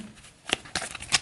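A small deck of board game turn order cards is shuffled close up, with three quick, crisp riffling bursts spaced a fraction of a second apart in an otherwise quiet room.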